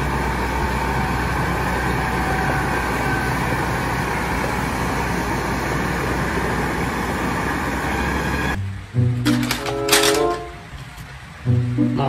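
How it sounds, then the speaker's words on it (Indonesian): A steady, loud tanker truck engine drones close by for several seconds, then cuts to a different scene with brief rumbles and tonal bursts. "mobil truk tangki."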